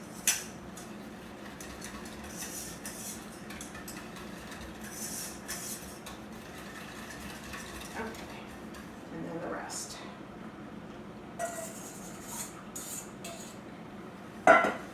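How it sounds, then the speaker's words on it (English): A spoon stirs melting white chocolate in a pan, light scrapes and occasional clinks against the metal, fairly quiet, with talk running over it. "Add a little bit more and stir"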